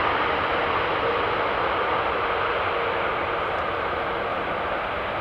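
An airplane landing on a runway, heard as a steady, broad roar of engine and rushing noise at constant level, with no voices.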